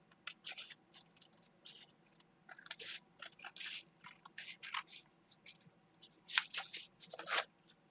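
Scissors snipping through paper to cut out a collage base layer, a quiet irregular series of crisp cuts and rustles, close and alone with no talk.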